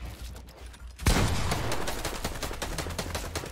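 Rapid bursts of automatic gunfire crack out in a Fortnite match, starting suddenly after a quiet moment and continuing as dense, loud volleys.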